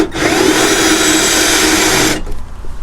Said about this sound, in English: We're gonna drill a little bit.